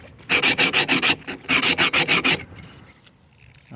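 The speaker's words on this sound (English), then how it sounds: "This part of the process needs by far the most elbow grease." Rapid rhythmic rasping strokes of 60 grit sandpaper rubbed over the cut edge of a glass bottle, two bursts of about six strokes each, close and loud, then fading to quiet handling noise.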